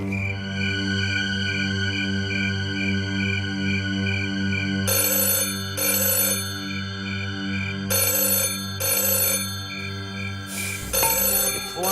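A phone ringtone plays loudly and steadily, with bright repeating electronic tones layered over a droning musical backing, broken by several short bursts of a harsher ring near the end.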